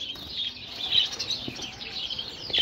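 A group of caged canaries chirps continuously, with rapid high trills and twittering notes that rise and fall in loudness and have no talk over them.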